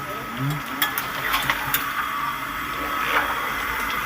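Curry for a Janmashtami offering cooking in a pan, a low steady sizzle with scattered scraping stir strokes and faint clinks, fairly quiet and close.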